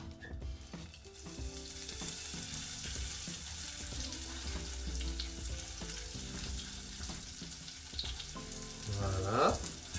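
Butter foaming and sizzling in hot caramel while it is whisked for a pumpkin pie, a soft continuous bubbling fry with light stirring clinks and a brief louder scrape near the end.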